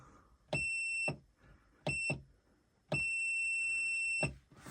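AFERIY PO10 portable power station sounding three electronic beeps: two longer tones separated by a short one, steady and clear, close by with no talk over them.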